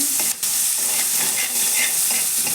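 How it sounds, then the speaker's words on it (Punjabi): Garlic, ginger and green chili paste sizzles steadily in a hot pan, a continuous close frying hiss with a few soft stirring scrapes, no voices. "ਇਹਨਾਂ ਨੂੰ ਵੀ ਆਪਾਂ ਥੋੜਾ ਜਿਹਾ ਭੁੰਨ ਲਵਾਂਗੇ ਇਧਰ ਆਪਣਾ ਲਸਣ ਅਦਰਕ ਦਾ ਪੇਸਟ ਜਿਹੜਾ ਉਹ ਵੀ ਥੋੜਾ ਜਿਹਾ ਫਰਾਈ ਹੋ ਗਿਆ ਹੈ"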